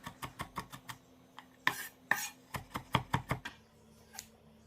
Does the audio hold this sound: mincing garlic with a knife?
yes